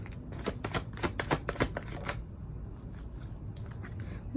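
Tarot cards being shuffled by hand for a reading, a quick run of crisp riffling flicks in close succession for about two seconds, then quieter handling rustle with no talking.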